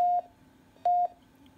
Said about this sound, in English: There it goes beeping.